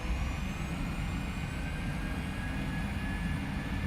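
Jet engines of a Boeing 737NG in a flight simulator game spool up for takeoff, a steady broad roar with high whining tones held constant throughout, loud and unbroken with no talk.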